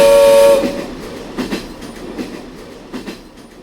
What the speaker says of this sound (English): He set up the new electric train and sent it speeding around the track